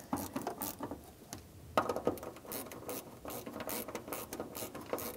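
Socket wrench hand-tightening fuel pump module nuts on a Honda Accord: quiet, quick ratcheting clicks in short bursts with brief pauses between turns, no speech.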